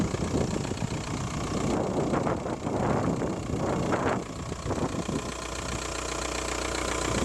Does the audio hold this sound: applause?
no